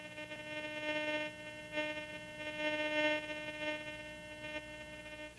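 A Garrett GTI 2500 metal detector holds a steady threshold tone, a continuous harmonic drone with slight swells in level, heard alone without talk.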